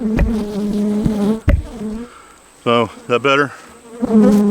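Loud buzzing of bees very close up, droning steadily with sharp bursts as they pass near, and a person speaks briefly partway through.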